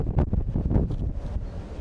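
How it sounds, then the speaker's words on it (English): Strong wind buffeting the microphone on the far-forward top deck of the Mariner of the Seas cruise ship at sea, a loud, steady low rumble with gusty surges throughout. "It's gonna be really windy up here."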